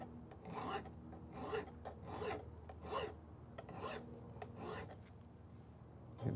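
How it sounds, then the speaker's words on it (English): A flat file rasps across metal held in a vise, each forward stroke a rhythmic scrape repeated about eight times, close and fairly quiet. "that's what I want to get rid of with a file"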